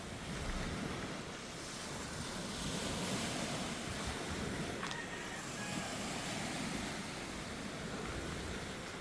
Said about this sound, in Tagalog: namnamin nyo muna yung dagat na yan